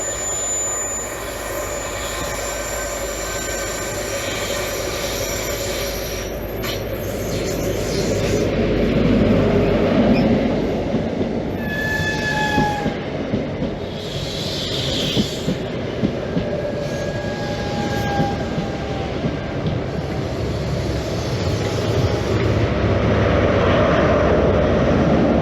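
A GWR Class 43 Castle set, power cars 43187 and 43189, pulls into Hayle station on a Penzance to Plymouth service, its deep diesel rumble building and steady, with wheel squeal and brake tones rising through the long approach.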